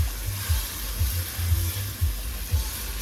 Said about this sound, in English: You put the potatoes in first, and you give it a good stir.